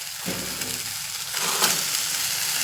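Drumstick leaves and tomatoes fry in a pan for chutney, making a loud, close sizzle that swells when the tomatoes go in, with brief stirring clatter.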